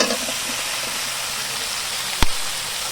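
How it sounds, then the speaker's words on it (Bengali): Boiled green jackfruit going into a pan of frying shrimp: a constant hiss of hot oil broken by one sharp clack near the end. "এবার আমি সেদ্ধ করা ইঁচড়টা দিয়ে দিচ্ছি।"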